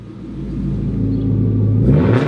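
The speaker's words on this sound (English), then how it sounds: "You can hear the exhaust is way too loud." A Lexus fitted with an overly loud aftermarket exhaust idles with a deep, steady rumble close by, then swells into a brief rev near the end, with no voices.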